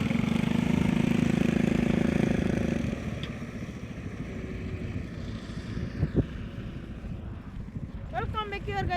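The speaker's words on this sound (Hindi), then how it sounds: "गाइस चेक करो ट्रैक्टर और निकलता है" A tractor engine rumbles loudly as it drives out, then falls to a quieter, chugging idle with knocks and a short burst of voices near the end.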